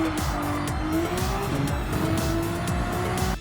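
A Genesis X VGT race car in the Gran Turismo 7 video game at Monza, with a loud, continuous engine roar that shifts pitch while braking and accelerating, plus tire squeal, with no talking.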